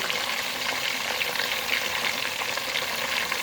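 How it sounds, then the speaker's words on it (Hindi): Spicy masala fish pieces fry in hot oil and give off a loud, steady, dense sizzle that holds evenly throughout with no talking. "अब 2 से 3 मिनट के लिए इसी तरह हम फ्राई करेंगे, टर्न नहीं करेंगे।"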